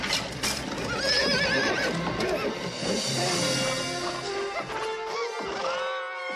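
Horses neigh in a film scene aboard a ship, shrill whinnies rising and falling over a dense orchestral score with clattering hooves and crowd bustle.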